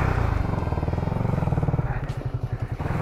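A sporty motorcycle engine runs steadily close by with a rough, pulsing drone, and its pitch shifts a little as the ride goes on.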